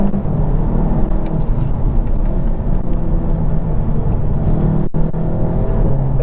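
A Volkswagen Golf GTI TCR (Mk7.5) engine drones loudly and continuously from inside the car as it revs past 5,000 rpm, a dense low rumble with a brief dropout near the end.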